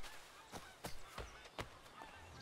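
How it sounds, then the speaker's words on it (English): Seagulls cry in Assassin's Creed 3, a few short honking calls spaced across a couple of seconds, faint and airy under game ambience. "Seagulls!"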